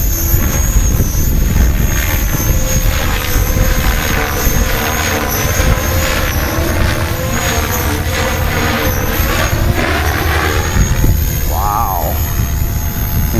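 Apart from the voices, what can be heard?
600E six-cell RC helicopter flying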